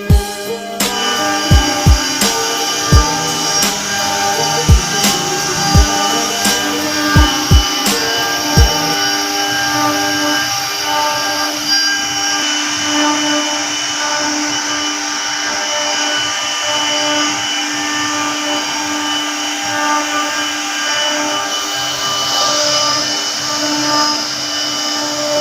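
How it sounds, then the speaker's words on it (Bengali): A CNC machine cuts designs in a furniture workshop, giving a steady, loud mechanical whine and hum. A few sharp knocks land early on, and the drone runs on without any talk. "সিএনসি মেশিনে এখানে ডিজাইন কাটা হয়।"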